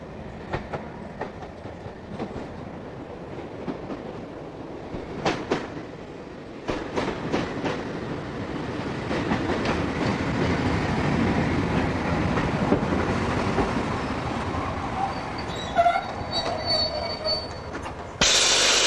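A steam train, locomotive number 1618 on the Bluebell Railway, rolls past with rhythmic wheel clicks and rising metallic squeals, growing louder mid-way before a sharp high squeal near the end.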